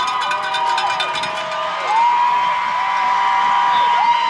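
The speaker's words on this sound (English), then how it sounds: "But it is a loud crowd as we see the lights flicker here" A loud crowd fills a high school football semifinal stadium under flickering lights, a steady roar with cheering and a clanging cowbell-like ring plus swooping tones from the arena sound system.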